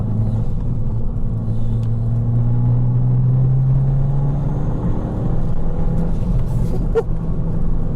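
Fiat 500 Abarth engine accelerating from inside the car, a loud steady low drone with a rising engine tone that holds, then eases off and settles into a constant hum.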